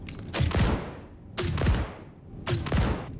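Umbra grenade launcher firing in Star Citizen, three loud evenly spaced shots about a second apart, each a sharp boom with a decaying rumbling tail, no talking.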